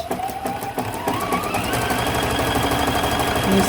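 A sewing machine stitches a quilt appliqué block in a fast, even mechanical patter that speeds up into a steady whir, close and clear with no voices.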